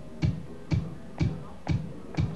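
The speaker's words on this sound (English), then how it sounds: "16 bars of bass drums there. It sounds like this." A straight, sequenced kick bass drum pattern programmed from MIDI keyboards, thumping five evenly spaced beats roughly half a second apart, dry and alone with no other instruments.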